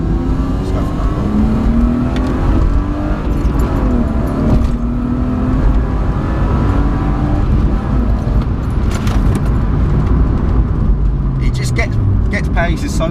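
An engine-swapped BMW E36 accelerates hard, its engine note climbing through rising revs in a steady, loud drone heard from inside the car. Someone talks over the engine for much of it.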